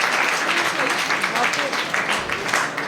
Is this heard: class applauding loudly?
yes